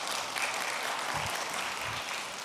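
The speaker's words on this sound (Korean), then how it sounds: "한번 박수로 격려해 주시기 바랍니다" A church congregation at a Wednesday worship service claps in encouragement, a broad wash of steady applause throughout, moderately loud and even with no talking over it.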